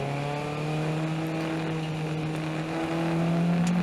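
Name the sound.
race car accelerating out of a corner on a wet track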